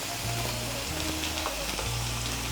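Onions and garlic paste frying in hot oil, a steady close sizzle with occasional stirring scrapes, no voices.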